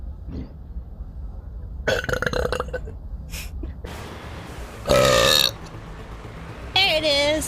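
A long, loud burp erupts among stretches of talking, followed by a second strong, drawn-out belch near the end, both close and harsh.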